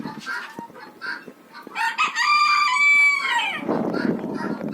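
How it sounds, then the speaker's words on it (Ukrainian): Bantam roosters and hens in a Ukrainian village yard: soft clucking at the start, then a loud, close rooster crow, followed by more clucking and scratching noise. "Півників у нас чотири."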